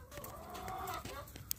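Backyard hens clucking softly and steadily while being fed gingerbread, a low continuous chatter of several birds close by with a sharper call near the end.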